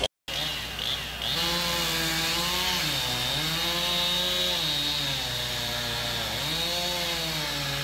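A chainsaw sputters, then catches and roars steadily during power pole replacement work, its engine pitch dipping and rising a few times as it runs close by.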